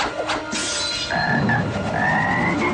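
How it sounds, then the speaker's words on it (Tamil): A frog croaks in a short, moderately loud burst, followed by a high trilling call over steady background noise. "தவளை!"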